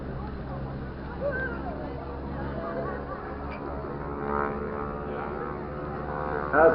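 Propeller biplanes flying a display at the Blackpool air show, a steady engine drone carrying through the whole stretch with the pitch shifting as they turn, swelling louder near the end, and faint crowd babble underneath.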